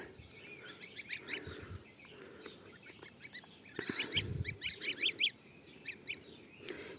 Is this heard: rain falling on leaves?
no